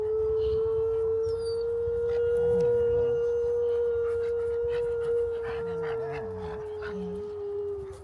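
A large dog whimpers and howls in a long, steady, high whine that holds for several seconds, near and fairly loud, with faint background noise.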